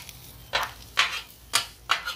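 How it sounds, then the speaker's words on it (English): Onions sautéing in a pan for chili dogs, with a quiet sizzle beneath a few distinct stirring scrapes that come roughly every half second, close and moderately loud. "Now my onions, they're getting sauteed really well"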